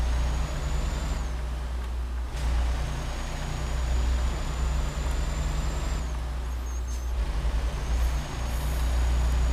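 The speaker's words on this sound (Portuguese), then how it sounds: "Aqui vem um caminhão, meu Deus." Truck engine drone in American Truck Simulator, a steady low rumble with whining tones that rise and shift as another truck passes, the sound swelling and easing twice over the span.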